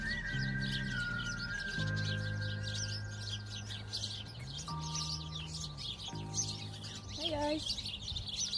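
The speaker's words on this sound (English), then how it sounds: "Stopped outside a very chirpy bush." Sparrows chirp busily in a bush in Edinburgh, a dense, continuous chatter of overlapping tweets close by, with a voice speaking briefly over them.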